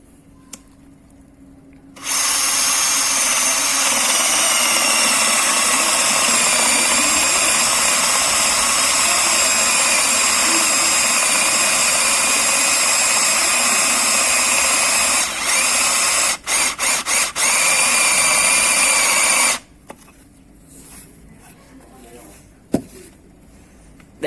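A Dewalt DCD796 cordless drill starts up and runs at a steady high whine for about seventeen seconds, briefly stuttering near the end before stopping abruptly, leaving a quiet room with faint background noise.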